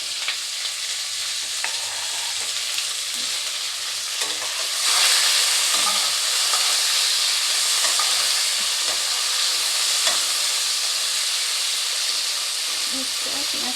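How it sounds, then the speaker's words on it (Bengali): Sliced onions fry with bay leaf and cinnamon in a pan, giving a steady close hissing sizzle that swells slightly midway, with occasional stirring scrapes and no talk. "পেঁয়াজটা ভাজা হোক।"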